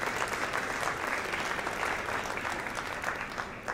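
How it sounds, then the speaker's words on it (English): An audience at a talk on neighborhood blight in Detroit claps for Linda Smith: a sustained round of many hands, dense and even, tapering slightly toward the end with no speech over it. "We owe her another round of applause."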